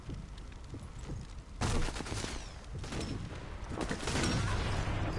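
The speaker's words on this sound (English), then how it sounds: "Why do I keep on shooting them through the jaws?" Gunfire and explosive bursts in the World War II shooter Sniper Elite 4, loud broadband blasts starting partway through over a busy battle backdrop, with scattered shots following in irregular bursts.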